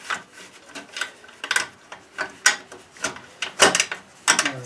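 A bolt being fitted into the cover of a Subaru Robin 169cc EX17 small engine: a run of close, scratchy metallic clicks and rasping turns in uneven bursts, fairly quiet and with no talking.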